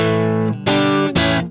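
Electric guitar played direct through an 1176 compressor, with three sustained, harmonically rich chords struck in succession, each with a sharp attack. The sound is loud, close and dry, with no talking.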